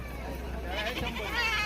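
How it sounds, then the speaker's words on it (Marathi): Goats at a Saturday livestock market in Shirur taluka, Pune district, bleating faintly in short wavering calls under nearby conversation. "किती शेळ्या आहेत"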